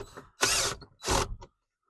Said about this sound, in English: I'll get me a 1/4 inch wrench and put on that side over there and tighten that up.